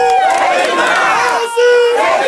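A crowd at an Omoyele Sowore campaign rally in Edo shouts and chants together, loud and close, in a sustained roar with a brief dip partway through.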